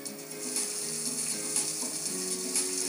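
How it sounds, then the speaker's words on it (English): A hand-crank sifter turns steadily as flour is sifted into a soup pot over cooking onions and peppers, a quick ratcheting click running the whole time over a faint sizzle from the pan. "I sift it right into the pot"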